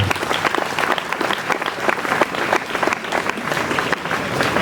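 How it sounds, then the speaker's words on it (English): A crowd at a school sports homecoming celebration bursts into dense, sustained applause for its champions, a loud, even wash of many hands clapping with little talk over it. "Can you clap for them?"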